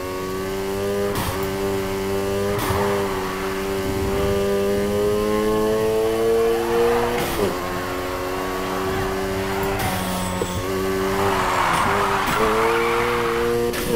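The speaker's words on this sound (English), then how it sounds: "Keep that drift going." A car drifts in the Need for Speed Heat racing game, its engine revving in long sustained sweeps that rise and dip with each slide, punctuated by sharp gear-change bursts and a little tire noise, with some voice audible underneath.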